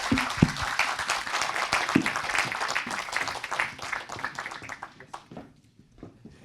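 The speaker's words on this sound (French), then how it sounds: "On applaudit bien fort." Audience applause at a French award ceremony for series, dense clapping from a crowd that thins and fades out toward the end, with a few scattered claps trailing off.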